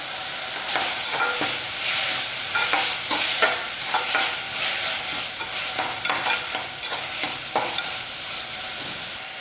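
Tomatoes and masala sauté in a pan for a goat head curry gravy, with a steady sizzle and regular spatula scrapes and clicks repeating throughout.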